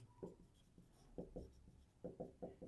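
Pen scratching on paper during a Class 10 maths lesson on pairs of linear equations, a few short close strokes in quick bursts, quiet, with no talk.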